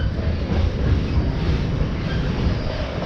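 A train rumbles past close by, a loud, steady roar of wheels and carriages with a low rolling rattle.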